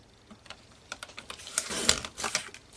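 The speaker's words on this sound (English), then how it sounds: "get your trimmer back out and cut that piece to 6 1/2 inches" A paper trimmer cuts a piece of paper to size for a mini album, a run of light close clicks and taps building to a brief sharper slicing swish, fairly quiet overall.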